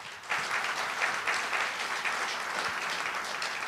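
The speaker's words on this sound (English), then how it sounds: "I think everybody should give them a round of applause." An audience claps at a mayor's speaking event in a steady, moderately faint round of applause without any voices over it.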